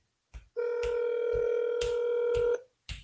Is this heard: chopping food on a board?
no